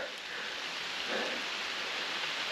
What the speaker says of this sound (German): Es regnet jetzt schon heftig.